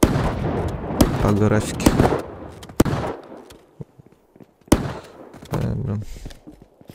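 A shotgun in the mobile shooter Battle Prime fires loud, sharp blasts, two standing out clearly amid game sounds, while a person talks over the action.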